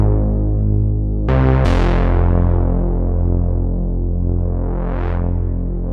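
A warm, fat analog-style synth bass from the Diva soft synth, the Bass Earth preset, holds one long continuous note whose brightness swells and fades, with a brief re-trigger near the start and no voices.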